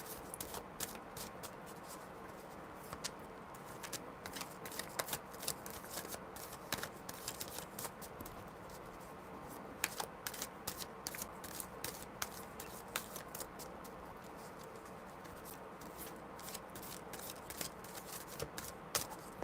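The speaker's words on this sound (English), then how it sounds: "I still love to shuffle the cards like that" Tarot cards shuffled by hand close up, quiet repeated papery riffles and flicks in irregular bursts over a faint background, with no voices.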